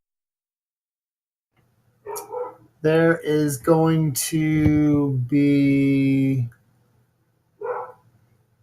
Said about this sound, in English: Geez, can you hear my dogs?